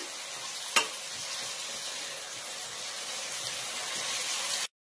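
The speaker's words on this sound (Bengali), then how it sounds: "এই যে কাঠের খুন্তি দিয়ে নাড়াচাড়া করে নিচ্ছি" Greens stirred with a wooden spatula in a pot, a steady broadband sizzle and scrape running throughout, with one sharp knock near the start and a brief cutoff at the end.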